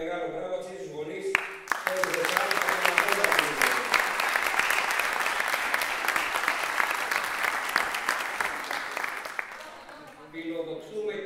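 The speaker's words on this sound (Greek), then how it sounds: "Και ένα τεράστιο χειροκρότημα και ένα μεγάλο μπράβο στους γονείς." Sustained audience applause at an award ceremony honouring Saronikos sports teams for their promotion, a dense wash of clapping from many hands lasting most of the clip, rising after brief talk at the start and fading back toward speech at the end.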